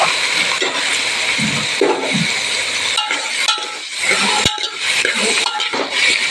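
Potatoes tipped into a pan of spiced chutney for a potato and green onion curry, then stirred, with metal spoon scrapes, clinks and rustling against the pan in several short bursts.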